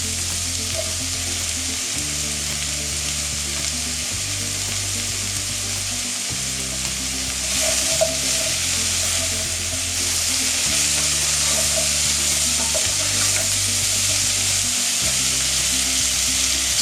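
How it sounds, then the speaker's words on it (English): Leeks, onions, mushrooms and carrots fry and sizzle loudly in a pan, with steady crackling and a low repeating hum as the vegetables are stirred throughout. "add the mushrooms into the pan and stir around, and then you can add your carrots."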